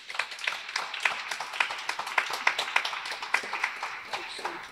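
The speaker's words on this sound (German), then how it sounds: "Melanie, erstmal einen Applaus." Audience clapping at a peace-themed concert premiere held in a tunnel, crisp individual claps forming a lively, fairly close rhythmic patter that stays steady from start to finish.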